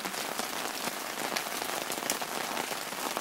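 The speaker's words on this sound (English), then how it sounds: "It is not raining very hard now, but as you can see, it also falls downward along the rail." Steady rain runs off a broken gutter onto a wooden deck and its rail with a dense, even patter of drops. It stays close and constant throughout, with no voices.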